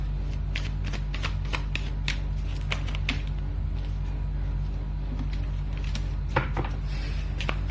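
Tarot cards being shuffled by hand: a run of quick, crisp riffling snaps and flicks in uneven bursts, close and clear over a low steady room hum, with no talking.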